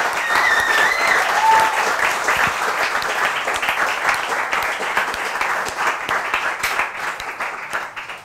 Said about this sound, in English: you really deserve a big, big round of applause